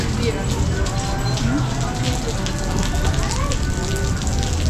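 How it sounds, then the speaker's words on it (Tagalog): Heavy rain pours down in a dense, steady hiss of drops hitting surfaces, loud and continuous from start to finish. "Sobrang lakas ng ulan."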